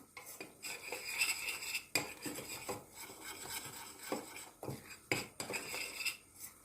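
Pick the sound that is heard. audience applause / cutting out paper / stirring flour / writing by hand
stirring flour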